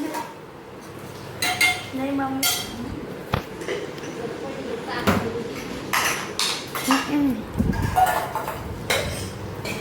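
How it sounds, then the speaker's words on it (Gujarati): Dishes being washed, with pots and utensils clinking and clattering at irregular intervals while people talk nearby. "ભાભી છે વાસણ ઘસવા"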